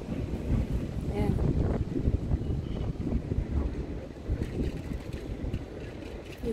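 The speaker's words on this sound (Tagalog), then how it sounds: "Sombrero ko, nililipad na ng hangin." Strong wind gusts buffet a handheld microphone on a stroll through Florence, with roaring, continuous rumble throughout and a voice talking briefly over it.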